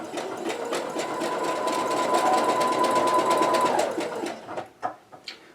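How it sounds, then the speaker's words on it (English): A sewing machine stitches spandex fabric, running steadily for several seconds with a rapid mechanical chatter, then slows and stops with a few separate clicks. "gently press down with the presser foot and guide the fabric through the sewing machine"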